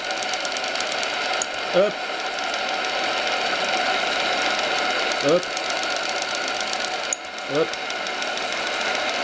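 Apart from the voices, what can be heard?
steam engine of RC tugboat Paterson running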